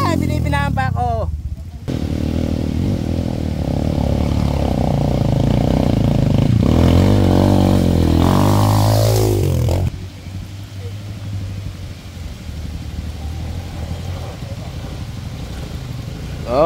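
Enduro motorcycle engine on a hard enduro trail ride in Divilacan, Isabela, revving and rising in pitch close to the microphone, with voices talking over it throughout.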